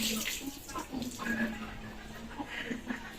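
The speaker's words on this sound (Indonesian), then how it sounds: "Kemudian bilas tangan dengan air yang mengalir." Running tap water rinsing hands, a steady continuous wash with faint splashes, while a voice talks over it throughout.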